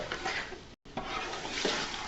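Meatballs sizzle in butter in a pan while being stirred, a steady loud frying hiss broken by scraping stir strokes and a brief dropout, with no talk.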